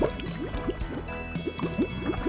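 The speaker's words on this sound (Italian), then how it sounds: "mescolo l'uovo nella ciotola." An egg is stirred in a bowl for a breakfast frittata, giving quick, close, wet sloshing and squishy clicks in a steady repeating rhythm, with no talking.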